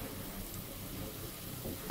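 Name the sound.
onions frying in a pan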